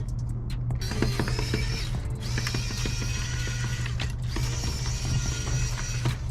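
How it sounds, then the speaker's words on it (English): A screwdriver turns a screw inside a Nintendo Wii during teardown, giving close, steady ratcheting clicks and scraping creaks over a low constant hum. "Now that we've loosened that screw"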